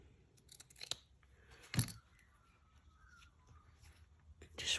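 Scissors trimming fabric for a papercraft ideas journal page, giving a few short quiet snips spread across a quiet room, with one sharper cut in the middle and a last one at the end.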